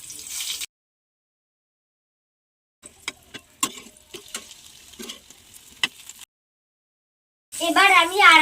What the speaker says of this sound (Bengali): এই দেখো, এই তেলগুলো ফুটছে।